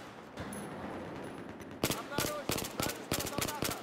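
Famas rifle fire in the video game Battlefield 4: after a quieter lead-in, sharp rapid automatic bursts crack close and loud in an uneven rhythm of about eight shots.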